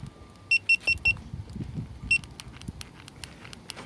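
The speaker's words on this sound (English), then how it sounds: "I just had this alarm system put on here" A newly fitted car alarm system goes off with quick bursts of high beeps, four in a row and then another, alongside a low chirp tone and faint background noise.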